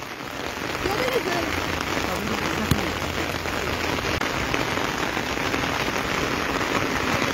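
A downpour of heavy rain drums without pause on surrounding surfaces, a thick wash of close, loud droplets, with faint voices under it.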